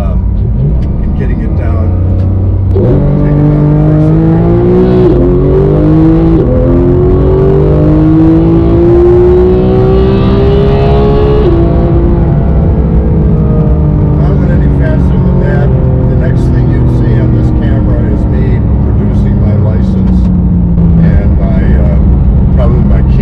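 A naturally aspirated Porsche 911 GT3 in PDK Sport mode is wound out toward 9,000 RPM. Its loud engine note climbs through a long pull, drops back briefly, then rises again over the constant road roar.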